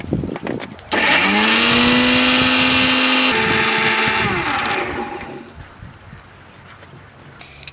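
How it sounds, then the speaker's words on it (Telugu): An electric mixer grinding onions and green chillies into paste starts with a sudden loud whine. It runs at a steady high pitch for several seconds, then winds down and fades while its contents rattle. "ఉల్లిపాయలు పచ్చిమిరకాయలు పెద్దగా పేస్ట్ పట్టుకోవాలి"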